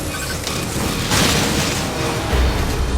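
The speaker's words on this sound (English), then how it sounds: "Now, use your missile!" Missile fired and exploding in Metroid Other M, a dull booming blast with a burst of noise midway and another low thump near the end, loud and without talk.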